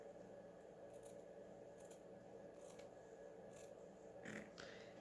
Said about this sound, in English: So I'm just going to use these scissors.